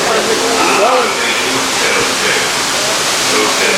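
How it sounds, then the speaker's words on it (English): A waterfall on the Pirates of the Caribbean ride at Magic Kingdom gives a loud, steady rushing roar that fills the whole scene up close, with no break throughout. "Look. The waterfall."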